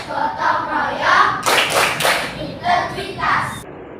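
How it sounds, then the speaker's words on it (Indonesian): Indonesian primary schoolchildren perform the Tepuk PPK chant, with sharp bursts of rhythmic group hand clapping alternating with their chanting voices in a classroom. "Tepuk PPK."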